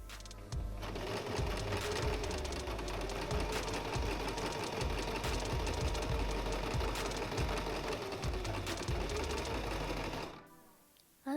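A sewing machine stitches a second line along a fabric seam, running with a fast, steady mechanical whir and rattle for about ten seconds, then slowing and stopping near the end.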